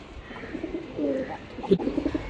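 Giribaz pigeons, two pairs kept by a hobby breeder, coo softly in low, throaty rolls, close by over faint background noise.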